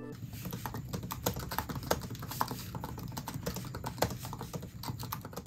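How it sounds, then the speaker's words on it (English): Quick, uneven keystrokes tap on a MacBook Pro laptop keyboard, close and fairly quiet, with short pauses between bursts of typing. "have a quick listen to the keyboard"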